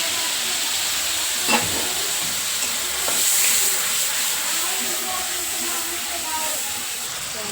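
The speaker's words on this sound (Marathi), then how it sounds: "आता आपल्याला छान तळून घ्यायचं आहे" A spice paste with cumin and mustard seeds sizzles in hot oil, giving a steady broad hiss with a few faint pops, close by and constant throughout.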